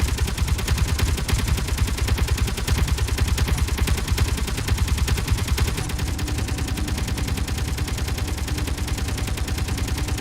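An assault cannon in the video game Space Engineers fires a loud, rapid, sustained stream of shots with an even machine-gun rhythm, heavy and unbroken throughout.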